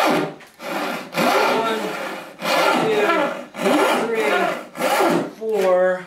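A handmade frame saw cuts through wood in about six rhythmic back-and-forth strokes, each a loud rasping push, close by, with a man counting aloud over the strokes.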